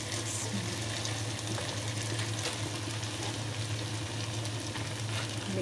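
Boiled chicken noodles, drained of water, fry and sizzle steadily in a pan with cooked vegetables as they are mixed, a continuous close hiss with faint scraping and no talk.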